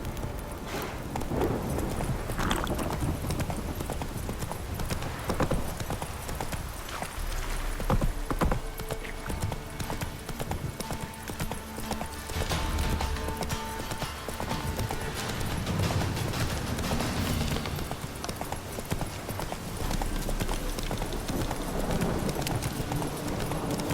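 Hooves of Roach, Geralt's horse in the game The Witcher 3, galloping in a rapid, steady clip-clop over ground for the full stretch, with wind and ambient game sound beneath.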